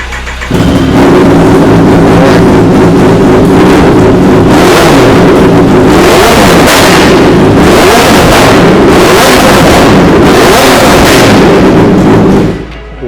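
A 1000cc sport superbike engine revs loud and close with repeated sharp throttle blips that rise into a raspy high-revving roar, then settles back to a rough idle between bursts. The engine cuts off at the end.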